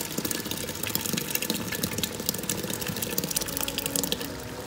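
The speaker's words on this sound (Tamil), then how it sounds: "இப்போ எக்ஸ்ட்ரா 1 கப்பு தண்ணி நான் இதில் ஆட் பண்ணுறேன்" Water poured into a mutton baharat masala makes a continuous splashing, gurgling flow with a steady rough texture and small bubbling pops, close by and fairly loud, with no speech.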